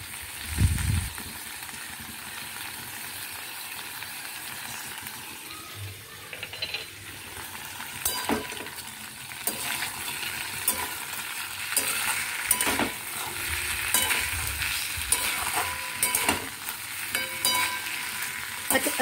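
Spice paste for Bengali shukto, with radhuni and poppy seed pastes, is stirred and fried in a pan. A steady sizzle runs throughout, with scraping stir strokes and clinks that come in bursts, close and moderately loud, and no talk.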